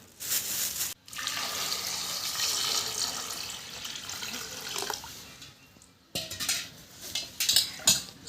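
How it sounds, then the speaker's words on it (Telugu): Jamun (Java plum) fruit being washed of dust and dirt: close splashing and swishing of water in a basin, with occasional clinks of a container and brief pauses. "ఇవి అయితే నీట్గా కడుక్కోవాలన్నమాట ఎందుకంటే దుమ్ము అదంతా ఉంటుంది కదా"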